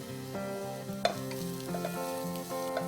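Chopped onions with a pinch of salt soften in a pan, giving a quiet sizzle with a few stirring scrapes and clinks, set under steady melodic background music.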